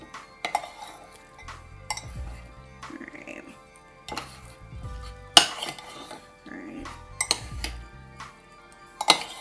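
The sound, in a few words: mashing and stirring beans for seven layer dip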